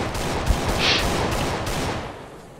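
Gunshots in a video game, heard as a loud, continuous wash of rapid fire and battle noise with a sharp crack early on, steady throughout with no talking.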